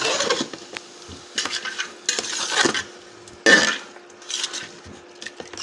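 Beef pieces stirred in a wok, giving intermittent scraping and clattering bursts of a utensil against the metal, spaced by short quieter gaps, close and fairly loud with no talk.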